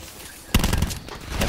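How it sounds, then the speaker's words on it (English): Sharp pistol gunshots in Call of Duty: Black Ops 4 heist mode crack out suddenly after a quiet moment, followed by a quick rattling run of further shots close by. "I heard that pistol."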